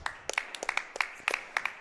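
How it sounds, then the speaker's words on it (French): Spectators in the stands at the WPT Paris Challenger 2019 padel match give scattered, crisp applause, a modest patter of individual hand claps that stays fairly faint. "Ça applaudit dans les tribunes."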